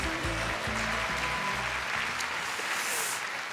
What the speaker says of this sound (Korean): 다시 한번 큰 축하의 박수 부탁드립니다.